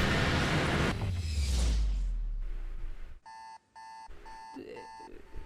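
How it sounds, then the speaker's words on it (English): An alarm clock goes off partway through, sounding as a loud electronic beep in repeated short bursts after a stretch of rumbling background noise. "It's an alarm clock."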